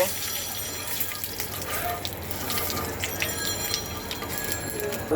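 Fish in hot oil for a Bengali fish curry gives off a steady, moderately loud sizzle and crackle throughout, with no break.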